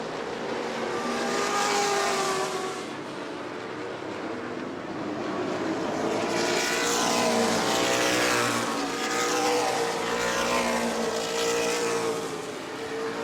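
Race cars roaring past at speed at New Smyrna Speedway, a loud continuous engine drone that swells and fades as cars pass in waves, with no voices.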